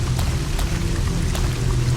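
Steady rain pours over a grey, miserable work camp in Resident Evil Code Veronica, a dense continuous hiss with a few sharper spatters, loud and unbroken with no voices.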